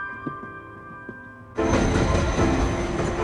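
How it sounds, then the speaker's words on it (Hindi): A train passes by suddenly and loudly, a dense rushing rumble and clatter that bursts in after a quiet stretch with faint tones and small knocks. "ये तीसरी ट्रेन थी जो हमारी नहीं थी।"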